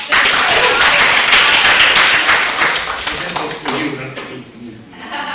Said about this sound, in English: Feel free to clap for that.